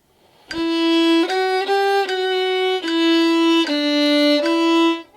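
A violin plays the opening phrase of the third line of Ode to Joy as a beginner lesson demonstration: seven or eight clear, sustained bowed notes in an even rhythm, close and steady, with no talking.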